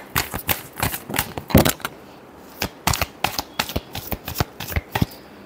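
Tarot cards being shuffled for a weekly Scorpio reading, a close run of crisp riffling slaps and flutters in quick irregular bursts with a short pause midway, no voices.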